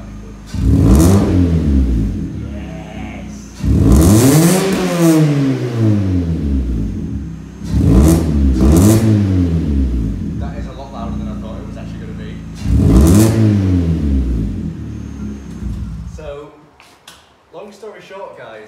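A Vauxhall Astra H with a Sportex exhaust and no backbox or silencer revs hard four times, each loud, raspy rise and fall followed by a lull, with voices faintly in the background near the end.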